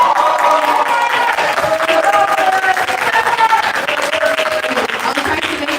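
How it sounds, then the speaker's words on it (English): Applause for a person at a youth performance showcase: a crowd claps continuously with some cheering and overlapping voices, loud and close throughout. "Some applause"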